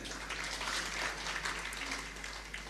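Steady audience applause in a hall, a dense broadband wash of many hands clapping that holds at a fairly even level throughout, with no voices standing out.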